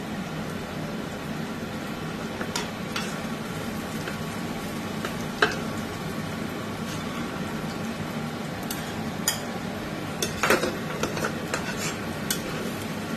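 Fried onions for a Thakurbari-style chicken korma are scooped from a pan into a bowl, with scattered scraping and clinking of a spoon against metal over a steady low kitchen hum.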